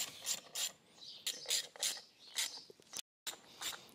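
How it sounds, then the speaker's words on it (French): A wrench or ratchet tightens a bolt during reassembly of a Westfield kit car engine, with quiet, close clicking bursts in an uneven rhythm and a brief gap of silence near the end. "on fait notre petit serrage sans trop forcer"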